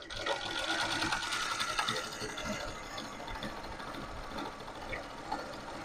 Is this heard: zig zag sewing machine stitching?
yes